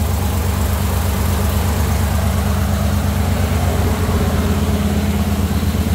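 The engine of a Jeep CJ5 runs during its break-in after a first start, a loud, close, steady rumbling drone with an even pulse that holds without pause.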